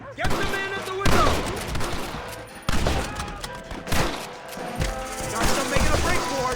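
Dense gunfire from a shootout in a Red Dead Redemption cutscene, rapid overlapping shots and booms that keep coming in bursts, loud and close, with shouted voices mixed in.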